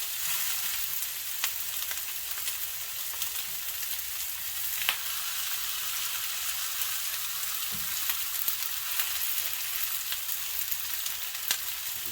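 Meat searing in a hot pan while making deconstructed bell peppers, a steady close sizzle with small crackles and pops, continuous and without talk.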